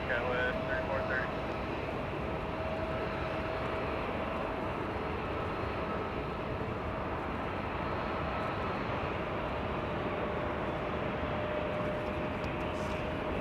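Singapore Airlines flight 36, an airliner at Los Angeles International Airport, gives off a steady, broad engine roar that holds at an even level for the whole stretch, heard from some distance.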